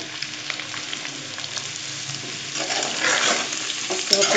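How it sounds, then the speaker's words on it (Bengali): Sweet pumpkin pieces drop into a pan of frying onion and sizzle steadily, a continuous hiss with faint stirring scrapes that swells louder toward the end, with no one talking. "এখন দিয়ে দিব করার মধ্যে তো পেঁয়াজটা হয়ে গেছে দিয়ে দিচ্ছি মিষ্টি কুমোরগুলো"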